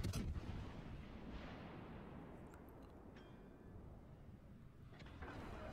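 Naval gun salvos boom from a Kutuzov cruiser in World of Warships: Legends, one heavy blast at the start, then a low rumbling wash with faint distant reports and no talking.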